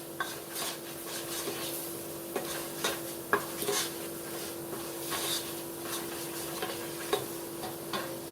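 Flour cooking and being stirred in a pot for a broccoli cheddar soup, a soft background sizzle under a steady series of spoon scrapes and taps against the pot, close and moderately loud, rhythmic and without any talking.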